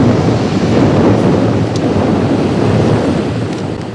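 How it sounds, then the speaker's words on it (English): Thundering surf crashing into a tiny rocky inlet at Los Hervideros on Lanzarote, a loud, continuous roar of waves and wind buffeting close by, with no voices. "Then we made it to the water siphoning of Los Hervideros, which is the name of a tiny inlet with thundering surf."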